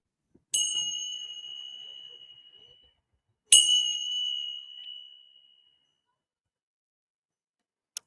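Outdoor chimes struck twice a few seconds apart, each a bright ringing tone that fades slowly into silence, with a brief faint tap at the very end.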